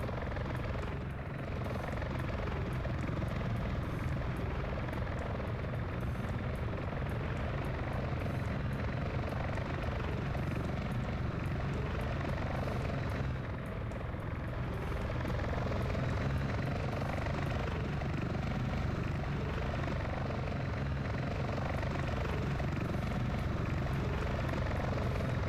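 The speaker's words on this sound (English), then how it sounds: "So now this chopper's going to come in for its landing." A video-game helicopter approaches to land during a ship-breach mission, its rotor thumping as a loud, continuous drone that holds steady throughout with slight swells, no talk over it.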